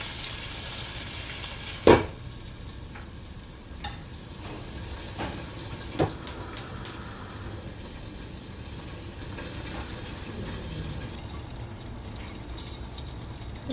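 Salmon frying in a pan, giving a steady close sizzle throughout, broken by a loud knock near the start and a few light clinks later.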